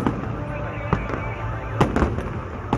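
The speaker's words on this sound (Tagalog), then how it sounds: "Yung fireworks." Fireworks crackle and pop in sharp bursts over a constant rumbling background, with several distinct bangs spread across the clip.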